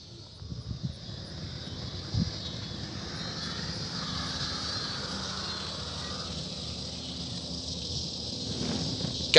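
The electric motor of an Avios Kobuz SZD-21 RC glider with a 2200 mm wingspan holds a steady high whine under throttle over wind rush, continuous and fairly close throughout.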